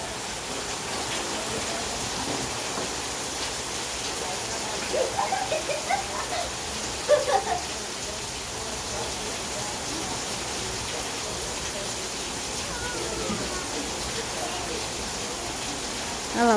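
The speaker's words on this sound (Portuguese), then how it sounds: "E a chuva, família, olha." Steady rain falls outdoors as a continuous even hiss, with a few brief louder bumps midway and faint voices in the background.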